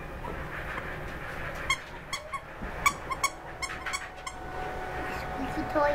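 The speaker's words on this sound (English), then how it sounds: "Squeaky toy." A Wheaten Terrier puppy's squeaky toy gives a handful of faint, short squeaks spread over a few seconds, set against quiet room noise and low background voices.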